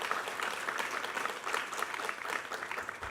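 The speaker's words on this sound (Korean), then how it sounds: "우리 하나님께 감사와 영광의 박수 올려드리겠습니다." A church congregation claps together during a Sunday worship service, a steady, fairly soft wash of many hands filling the room throughout, with no voices rising above it.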